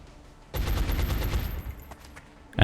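A weapon fires in the XCOM: Enemy Within strategy game: a loud shot erupts and rumbles with rattling echoes for about a second before fading, followed by a sharp impact at the end.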